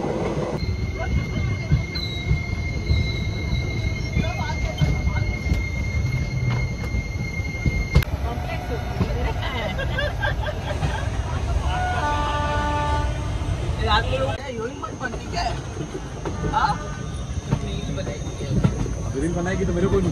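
The Netaji Express (12311, Howrah to Kalka) pulls into Mughalsarai (Pandit Deen Dayal Upadhyaya) junction with a loud rumble of carriages and drawn-out metallic wheel squeals. Ambient platform noise and voices run underneath throughout.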